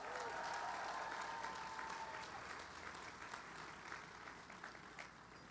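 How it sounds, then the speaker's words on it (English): Crowd at the Cincinnati March for Science breaks into applause, dense clapping starting strong and gradually tapering off over several seconds. "give a big round of applause for them"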